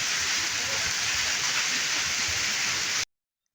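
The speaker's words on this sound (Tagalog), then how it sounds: "ang lakas ng ulan" Heavy rain pours steadily in a village, a dense, even hiss that holds at constant loudness for about three seconds and then cuts off abruptly to silence.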